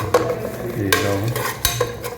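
A beef biryani mixture is stirred in a pot, with thick, wet scraping strokes and a few sharper knocks of the spoon against the metal, close and fairly loud.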